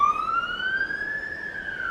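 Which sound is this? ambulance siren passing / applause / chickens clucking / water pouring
ambulance siren passing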